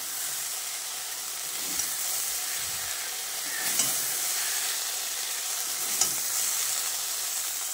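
Okra fries in a pan with a steady, close sizzling hiss that holds evenly throughout, broken now and then by faint clicks of stirring.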